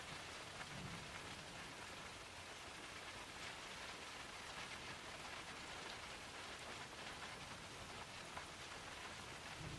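Steady rain falling, a soft continuous hiss of drops on surfaces, even and unbroken throughout with no voices.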